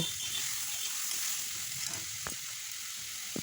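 Spiced country chicken sautés in a pan with turmeric, cumin and chilli powder, a soft, even sizzle running throughout with a few faint clinks of a spatula.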